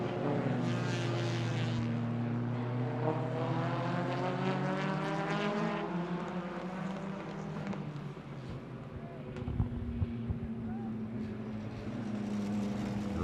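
Stock car racing engines at a Border Stockcars meeting, a loud sustained drone of several cars with shifting engine pitch as the pack circulates, steady throughout with a brief burst of crowd or track noise near the end.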